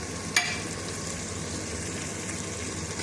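Cut potatoes frying in a pan, a soft, continuous sizzle with one brief sharp crackle near the start, faint and steady with no talking.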